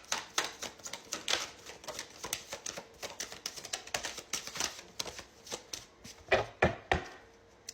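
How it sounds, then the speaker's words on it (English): Tarot cards shuffled by hand in quick irregular riffles and taps, a close dry patter of card edges that comes in bursts and pauses, with no voices. "So let me just shuffle my cards."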